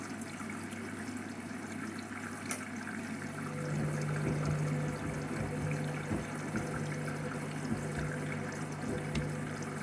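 Water runs steadily into a Candy washing machine drum during a mattress topper and duvet wash cycle, a soft continuous rushing with a low hum that grows slightly fuller partway through.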